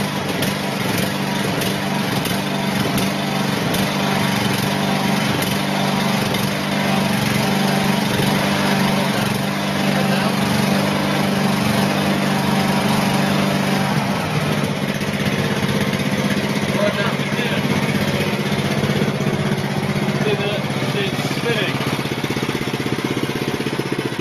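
A small engine on a Power Cube prototype runs steadily after a choke start, a loud, continuous high-pitched buzz like a lawn mower that holds an even drone throughout, with faint voices now and then beneath it.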